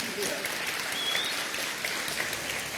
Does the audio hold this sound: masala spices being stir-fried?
no